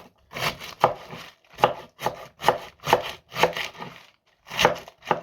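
Quick, rhythmic knife chops on a cutting board in short bursts with brief pauses, close and crisp, no talking.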